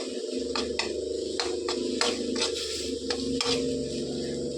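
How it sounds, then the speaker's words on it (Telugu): Tomato coconut curry mixture sizzles and fries steadily in a pan, with repeated scraping and stirring strokes clattering against the metal throughout; no voices. "అందరూ మంచిగా వేయించాలండి"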